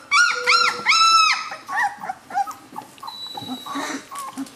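A pile of three-week-old Chinook puppies whimpers and yips close by, giving high, rising and falling cries in quick overlapping bursts, with softer squeaks and whines trailing off toward the end.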